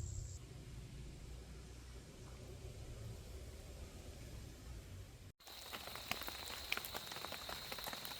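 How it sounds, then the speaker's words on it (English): Rain falls outdoors near a tent during the rainy season as a steady soft hiss. Partway through it cuts to a closer, brighter patter with scattered drop ticks and a thin high tone. "It is raining right now"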